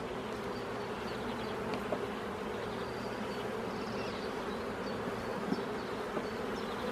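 Many young grey honeybees buzz in a dense, steady drone across hive frames holding fresh nectar and honey, close and continuous with no voices.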